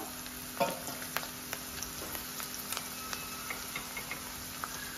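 Green chilies and cashews fry quietly in a pan, a soft steady sizzle broken by small regular ticks and taps of a stirring spoon.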